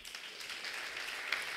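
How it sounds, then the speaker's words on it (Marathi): A church congregation applauding, a steady wash of many hands clapping together, fairly quiet and distant, with no speech over it. "टाळ्या देऊ शकता सगळ्या मोठ्याने"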